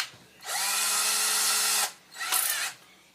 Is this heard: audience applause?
no